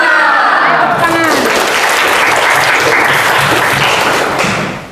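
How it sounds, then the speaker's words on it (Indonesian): Schoolchildren in a classroom applaud together in a loud, close burst of many hands. A voice is heard briefly first, then the clapping runs steadily for several seconds before fading at the end. "Tepuk tangan."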